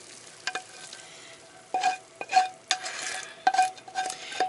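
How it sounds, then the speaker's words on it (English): Ground chuck stirred in a pan for an old-cookbook oriental hamburger casserole, with several distinct scraping stir strokes and clinks over a faint sizzle, moderately close, no talking. "I've got to put the ground chuck now in here and stir this up"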